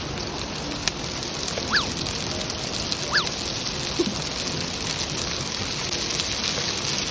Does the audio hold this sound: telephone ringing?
no